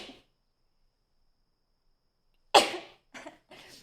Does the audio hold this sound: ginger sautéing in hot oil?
no